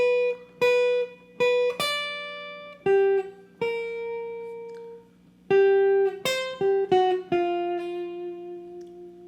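A guitar plays a melody as single notes without octaves, clear plucked tones in an uneven phrase with some notes ringing out and others quickly repeated, close and unaccompanied.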